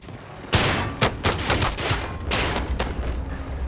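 Loud, close gunfire in a shooter video game, with a hard opening shot followed by irregular rapid bursts and single cracks over a steady background roar.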